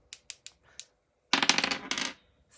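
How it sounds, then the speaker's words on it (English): A numbered die tossed during a cash-stuffing savings challenge: four light clicks in quick succession, a pause, then a dense rattling clatter as it tumbles and settles, close and fairly quiet. "So roll the numbered dice."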